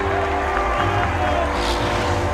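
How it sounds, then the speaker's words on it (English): A large crowd cheers along the streets of Paris during the Tour de France, a steady loud roar of voices and clapping filling the whole moment. "Thousands of Americans were cheering on the streets of Paris."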